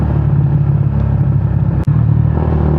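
A Yamaha Sniper 150 motorcycle with a kalkal exhaust pipe idles close by, giving a loud, steady, throbbing low rumble with one brief dip partway through.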